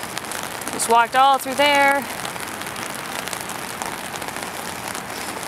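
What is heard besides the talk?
rain falling outside aquarium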